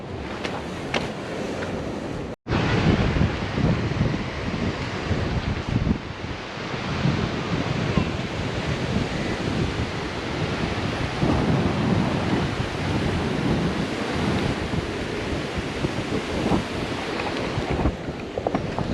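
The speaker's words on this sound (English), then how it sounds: "So guys, this is the Pondicherry beach." Roaring surf and strong wind buffeting the microphone on Pondicherry beach, a loud continuous rumble of breaking waves with one brief dropout near the start, no voices.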